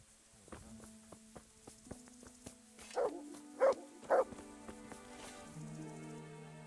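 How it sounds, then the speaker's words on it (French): A dog in the medieval video game Kingdom Come: Deliverance gives three short barks in quick succession over faint game ambience and soft footsteps, moderately loud and near. "C'est un bon chien."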